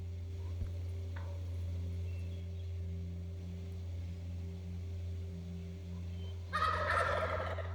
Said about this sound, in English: as the toms are coming in, a hen starts spitting at me